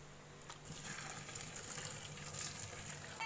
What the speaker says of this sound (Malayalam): വെള്ളമാണ് ഒഴിക്കുന്നത്